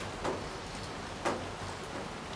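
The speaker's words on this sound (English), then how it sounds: "it's raining again" Rain falling outdoors during a buck hunt, a steady even hiss of drops with a couple of louder close taps, no talking.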